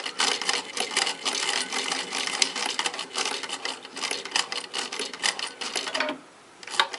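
A sewing machine stitches a seam on a patchwork star ornament, running forward a few stitches then reversing to lock the end; a steady close rattling whir with a brief pause near the end before it resumes.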